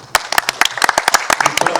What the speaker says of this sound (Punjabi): ਇਹ ਤਾੜੀਆਂ